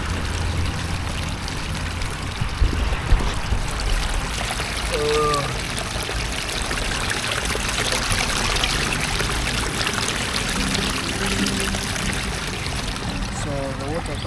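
Water spills steadily down a small constructed waterfall, a continuous broad splashing rush with a trickling edge, steady and fairly close throughout, with a few faint knocks mid-way.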